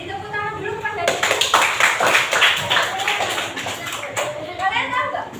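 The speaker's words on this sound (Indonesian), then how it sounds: "Beri tepuk tangan dulu kepada dia." A classroom group claps together for a student during an Indonesian-language lesson on the water cycle, a dense burst of many hands lasting a few seconds, with children's voices and chatter around it.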